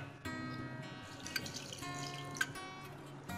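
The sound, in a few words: water poured into pav bhaji vegetables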